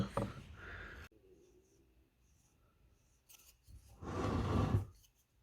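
A molded carbon fibre wheel cover being trimmed along a marked line, heard as two bursts of close cutting, one short and one longer, separated by a quiet gap.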